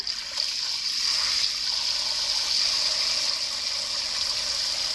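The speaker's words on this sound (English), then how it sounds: "I'm going to keep filling it with cold water" Cold water runs continuously into a bowl of steamed eggs for an ice bath, a steady close stream with a bright hiss and no pauses.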